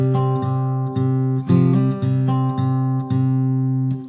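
Acoustic guitar with a capo plays a short section of a song, plucked notes ringing in a steady, unhurried rhythm, close and clear with no voices.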